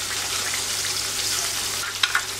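Chopped garlic sizzles with onion in a pan, a steady bright hiss with a few sharp crackles and scrapes of stirring near the end, close and alone without speech.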